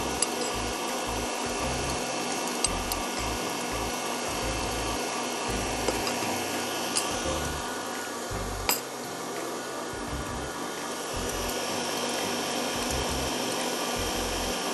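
An electric hand mixer left running while beating eggs and sugar for a three milk cake, a steady whirring drone held close throughout with occasional clanks and scrapes against the bowl.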